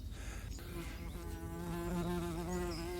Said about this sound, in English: there's a wasp come to say hello. There we are, he came to look at the microphone and he's now cleared off